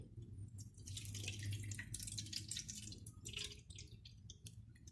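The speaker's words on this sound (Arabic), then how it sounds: "وهحط مية سخنة" Hot water is poured into a baking tray holding a cut of meat, a faint, continuous splashing trickle with a low background hum throughout.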